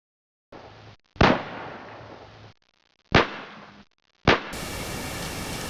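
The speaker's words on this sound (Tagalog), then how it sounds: "Ang lakas ng putok ng baril" Three sharp, loud bangs spaced a second or two apart, each followed by a short rush of noise, with hiss at the end.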